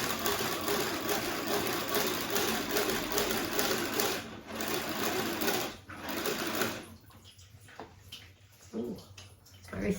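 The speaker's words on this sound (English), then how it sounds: "I'm going to whisk it up" Dog facial spa mixture being whisked with water, a fast, continuous whirring hum like a small mixer, close and steady, which cuts out toward the end and leaves faint clinks and rustling.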